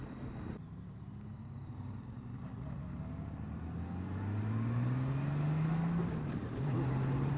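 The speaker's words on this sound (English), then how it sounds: "A little burst of power there in second gear." A 2021 Honda Gold Wing with manual transmission pulls hard in second gear, its engine note climbing in a smooth rising whine over steady wind and road rush that grows louder, then briefly dips and resumes.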